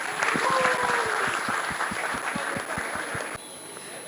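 An audience at a school annual day applauds a children's performance: a crowd's clapping wash at first, thinning into a few loud rhythmic claps close by, before fading near the end.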